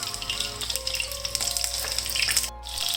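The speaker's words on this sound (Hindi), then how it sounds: "मैंने कबाब जो है वो फ्राई होने के लिए डाल दिए हैं। हल्की आग पे हम इसको फ्राई करेंगे।" Chicken seekh kababs shallow-fry in oil over a low flame, producing a close, bubbling, watery sizzle with irregular crackles and a steady low hum underneath, free of any talk.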